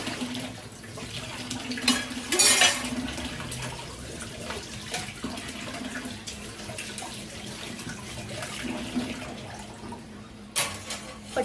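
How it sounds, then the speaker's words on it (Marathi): Dishes washed at a kitchen sink under a running tap, with steady water flow and occasional clinks and splashes of utensils close by. "पटकन भांडी घासून घेते"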